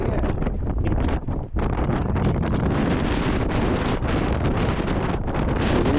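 Strong wind roars and buffets across the microphone on a mountain summit, a loud continuous rush with a brief lull partway through.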